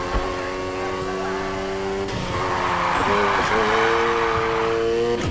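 A car drifting in the racing video game Need for Speed Heat, with a loud engine drone shifting pitch and tires squealing through the slide, held steadily for several seconds.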